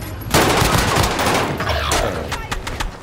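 AK and MP40 gunfire in Call of Duty on Rebirth Island, a loud sustained burst of rapid automatic shots with bright cracks and pauses, close-range in a video game, with voices faintly mixed in.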